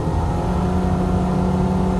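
Nissan Altima engine free revving while parked, a steady engine drone with a low harmonic hum that holds level and never climbs sharply toward the limiter, sounding sluggish and close.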